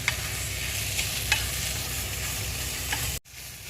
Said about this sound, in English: And just keep stirring it so nothing sticks.